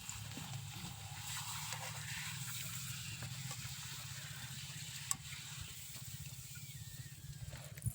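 Papad frying in hot oil during an outdoor farm-field meal, giving a steady, close sizzling hiss over a low rumble throughout, with a few faint clicks and no clear talk.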